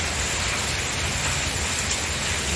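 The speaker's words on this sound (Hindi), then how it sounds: "कितनी तेज बारिश हो रही है" Heavy rain pours down steadily and loudly, a dense, unbroken hiss with no pauses.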